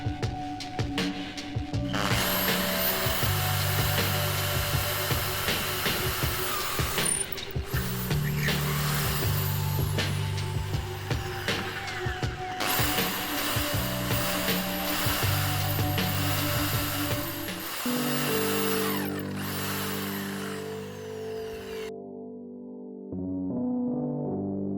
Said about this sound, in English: I create the drainage holes using a larger drill bit.